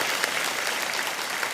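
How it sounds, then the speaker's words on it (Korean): A church congregation claps together during a Korean early-morning revival service, producing a steady, dense wash of applause from a large crowd that continues evenly throughout with no voices on top. "우리 영광의 하나님께 박수로 감사드리겠습니다."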